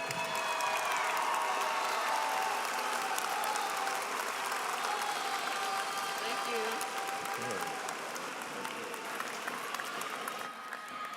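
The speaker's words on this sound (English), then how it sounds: "Let's applaud our College of Humanities, Arts, Social Sciences, and Education graduates" A large crowd at a spring commencement applauds the graduates with sustained, dense clapping and some cheering, while a voice speaks over the ovation.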